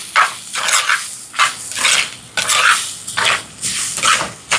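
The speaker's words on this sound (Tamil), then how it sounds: "வெங்காயம் எல்லாம் வதங்கிட்டு அப்படியே நல்லா வறுத்துவிட வேண்டியா" Onions fry in a pan while being stirred, a loud close sizzle broken by rhythmic scraping strokes of a spoon roughly every half second, with no talking.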